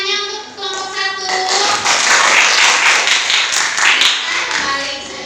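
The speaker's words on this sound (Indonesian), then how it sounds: "tepuk tangannya untuk kelompok 1" Clapping from a classroom group of students applauding another group, a dense burst of hand claps that builds and holds steady, with a voice heard briefly at the start.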